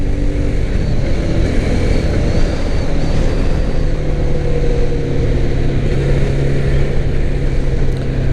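A 2021 Mahindra Mojo 300 ABS BS6 motorcycle being ridden, a loud, steady engine and wind roar that continues throughout. No distinct gear shifts stand out, and no talking.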